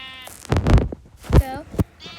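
Sheep, including a baby sheep, bleat in the Minecraft video game with a few short, wavering calls close up. A person talks over and between them.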